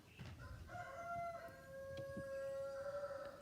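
A rooster crows once in a long, clear, drawn-out call at moderate distance, alone and without talking, over faint background noise.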